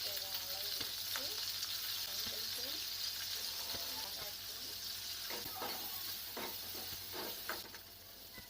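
Ingredients for an ivy gourd curry fry in a pan with a continuous close sizzle. Stirring scrapes grow more frequent in the second half, and the hiss eases near the end. Faint talking is heard early on.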